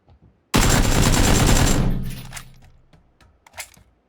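Gunfire traded during a video game match bursts out suddenly in a loud, sustained volley of rapid shots lasting over a second, then fades into echoing tails with a couple of faint, scattered later pops.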